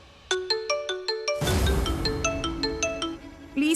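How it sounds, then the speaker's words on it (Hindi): A phone ringtone plays a repeating chiming melody of bright, bell-like notes as a call goes unanswered, with a brief burst of noise partway through the ringing. "प्लीज फोन उठाई"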